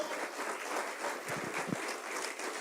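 Applause from a church congregation praising God during a sermon, a steady wash of clapping lasting a few seconds with no voices over it.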